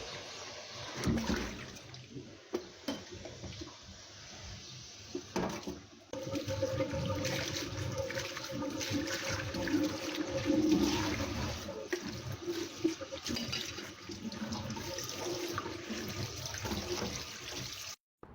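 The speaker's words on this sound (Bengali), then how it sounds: "তো এখানে আমার শুটকিগুলো ধোয়া হয়ে গেছে।" Dried fish (shutki) is washed under running water, with continuous tap flow, splashing and sloshing at a sink close by and occasional knocks as the fish is handled.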